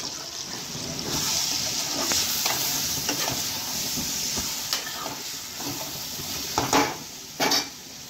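Spiced vankaya (brinjal) curry stirred in a pan with coriander powder and chili, a steady sizzle under repeated scraping and clinking of the spoon against the pan, with a few louder knocks near the end.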